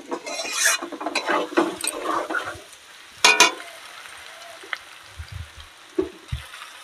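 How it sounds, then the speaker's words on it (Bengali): Water poured into a pan of frying potatoes and pointed gourd in a village kitchen, a burst of sizzle and stirring scrapes, then a sharp hissing splash with quieter clinks and low thuds afterward. "তো এবার জলটা আমি দিয়ে দিলাম।"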